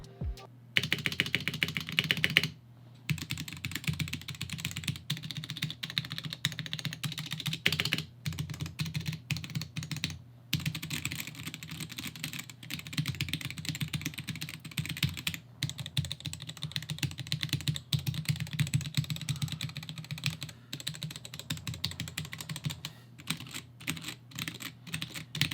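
Stock linear yellow switches on a K87 mechanical keyboard sitting on a mouse pad, producing steady, fast, close-up typing with brief pauses and a few louder key strikes.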